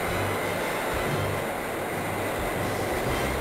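A train rolls by in a continuous loud rumble and roar of wheels on rails, heard close and steady throughout with no voices.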